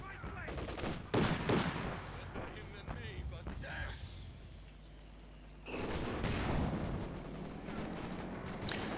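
Tank main gun and small-arms gunfire in a World War II strategy video game, with Panzer II tanks in play: bursts of shots and a heavier blast, fairly quiet beneath ongoing commentary.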